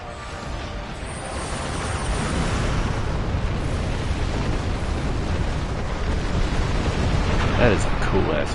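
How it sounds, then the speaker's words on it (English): A large explosion in the space combat game Star Trek Online, during a fight against Borg ships, produces a sustained, broad roaring rumble that holds steady for several seconds. "That is a cool ass explosion."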